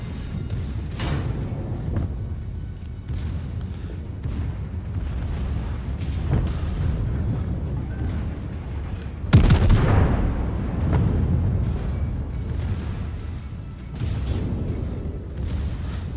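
Naval secondary-gun fire from the battleship Bayern in World of Warships, a string of booming shots over a rumbling engine and sea bed, with one heavy close blast near the middle followed by a long roar.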